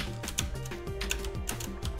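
Computer keyboard keys clicking in quick irregular bursts during a fangame speedrun, close and fairly quiet, with no voices.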